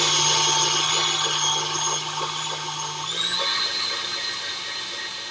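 An electric mixer whipping egg whites and sugar into meringue, a steady close motor whine that shifts pitch slightly midway and keeps running alone without talk.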